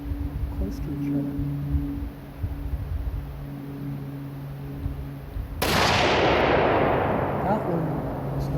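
A single loud, close gunshot from a firearm loaded with a homemade bullet cracks out after a stretch of quiet humming background, then rings off slowly.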